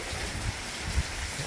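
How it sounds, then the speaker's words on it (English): Heavy sheet rain pours steadily during Hurricane Ian in Tampa, a dense, continuous hiss of water with a few louder thuds and gusts, and no voices. "Some sheet rain"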